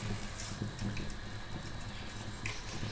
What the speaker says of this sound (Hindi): मैंने 1 कप पानी डाला है इसके अंदर।